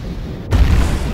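A torpedo explodes in the Star Citizen space game: a sudden, loud, deep boom bursts in about halfway through and rumbles on over a quieter background hum.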